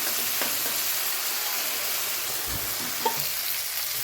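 Crab masala fries in oil as the spices begin releasing their oil, giving a steady, close sizzle and crackle with a brief utensil clink near the end.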